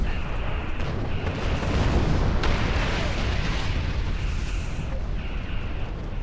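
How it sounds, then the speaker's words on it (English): A ship exploding in the Star Trek Online video game: a loud, sustained rumbling blast with crackling bursts and debris noise running the whole stretch, dense and close, with a brief voice faintly underneath. "The ship exploding just about killed me."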